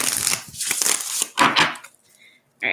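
Tarot cards being shuffled by hand, several quick papery riffling bursts close up, followed by a pause of near silence and a brief crisp rustle at the end.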